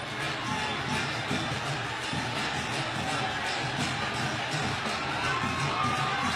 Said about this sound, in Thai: กองเชียร์ก็ยังลุ้นกันระทึกเลยทีเดียว